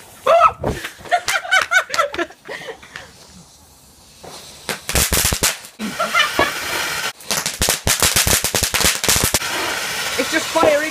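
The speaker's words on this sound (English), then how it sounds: "Well, the Catherine wheel is lit." A Catherine wheel firework burns on bonfire night with rapid sharp crackles and bursts of loud popping, broken by a brief quieter stretch, while people talk and laugh nearby.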